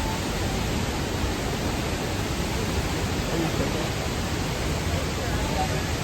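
La Fortuna Waterfall roars with a dense, steady rush of falling water, a constant close wash of noise with no breaks across the whole stretch.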